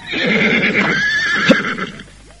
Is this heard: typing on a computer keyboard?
no